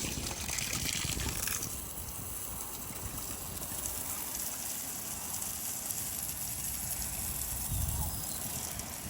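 Water is poured out for alpacas on a farm, a continuous splashing trickle and gush that runs for several seconds, with a person talking over it.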